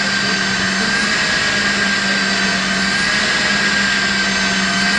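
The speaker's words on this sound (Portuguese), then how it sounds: "Agora ele não tem uma aceleração muito forte porque o motor está suspenso" An electric vehicle's motor, suspended off the ground, spins freely without load, giving a loud, steady whine with a constant hum and no other sounds.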